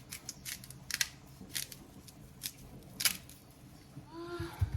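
Pumpkin is cut into a pot of Jamaican country-style pumpkin soup, sharp crisp cutting snips coming in irregular bursts, close and fairly loud, with a brief low clatter near the end.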